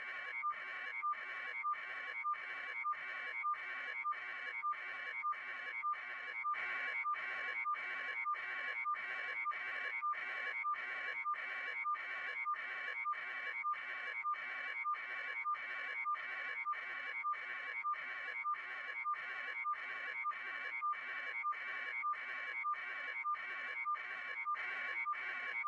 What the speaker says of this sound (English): that's the actual sound from the video, that strange beeping